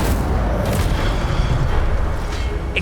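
The Incendio fire spell is cast in Hogwarts Legacy, a loud dense whooshing burst with a booming low rumble that fills the whole moment.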